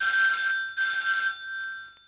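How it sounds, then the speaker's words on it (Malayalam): A telephone bell rings in two loud bursts of about half a second each, separated by a short gap, with a quieter tail fading after the second burst and no talking. "സംശയമല്ല, ഈ ഫോൺ നിങ്ങൾക്കാവും."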